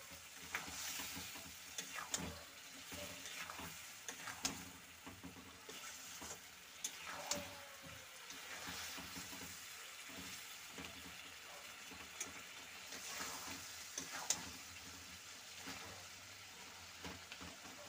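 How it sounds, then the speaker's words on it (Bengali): Cauliflower, potato and peas curry with spices sizzles and fries in a pan, a soft continuous crackle broken by repeated scraping stirs of a spatula, fairly quiet and steady throughout with no talking. "তো এটা কষাতে হবে অনেকক্ষণ"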